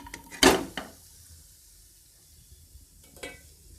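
Lentils tip into a hot kadhai with a short, sharp rattling hiss, then near quiet, followed by a brief scrape of stirring near the end, all close and without speech.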